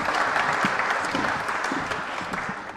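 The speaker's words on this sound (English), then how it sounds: "I would like that we give the panel a huge applause" Audience at a plant-breeding anniversary event applauds a panel, steady dense clapping throughout, fairly close and even in loudness.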